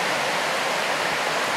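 The Conasauga River in the Cohutta Wilderness rushes steadily, a broad, even hiss of flowing water heard close and alone.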